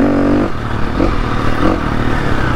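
Off-road motorcycle on a muddy green lane, its engine droning loud and close with a brief change in pitch near the start, over scraping and clatter from tyres hitting puddles and rough ground.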